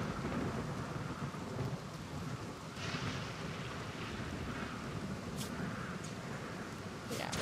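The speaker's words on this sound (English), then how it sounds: "It's raining really hard right now." Heavy rain pours steadily in a Rimworld game storm, with thunder rumbling loud and low throughout and a few sharper cracks near the end; a voice speaks over it.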